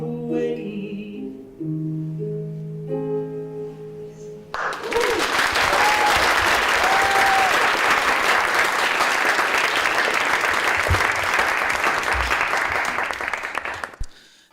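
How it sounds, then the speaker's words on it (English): Loud, sustained audience applause breaks out after a storyteller's sung performance at a live storytelling night, a dense wash of clapping that fills the room for about ten seconds before tapering off, preceded by a few seconds of singing. "Give another round of applause for Alec."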